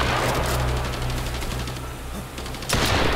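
Shotgun fire in a War of the Worlds video game, a dense run of loud blasts over a steady low rumble, ending in a sharper burst.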